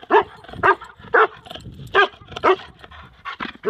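Several dogs bark in short repeated bursts, about seven loud close yelps spaced roughly half a second apart, with panting and whimpering between them and no talk.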